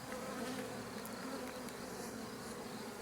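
Honey bees buzz in a dense, steady drone around a small nucleus hive during swarming season. The hum is continuous and close, with no talking.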